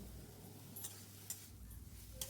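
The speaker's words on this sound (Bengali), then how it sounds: "আর 1 টিস্পুন হলুদ গুঁড়ো আর 1 চা চামচ লঙ্কা গুঁড়ো দিয়ে ভালো করে এগুলো আমি নেড়ে নেব।" Turmeric, chili and cumin powder are stirred in a pan for a pumpkin-greens and lentil-fritter curry: faint, soft scraping with a light sizzle and a few small clicks over a quiet background.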